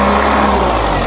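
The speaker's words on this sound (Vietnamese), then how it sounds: "nghe cái tiếng máy nổ ấy nhá" A Japanese forklift engine runs close by at a steady idle, a loud even mechanical drone with no breaks or changes in pitch.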